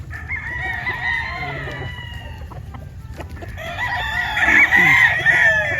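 Gamefowl bullstags and roosters crow repeatedly on a farm, with overlapping calls near and farther off, plus scattered clucking, building louder toward the end.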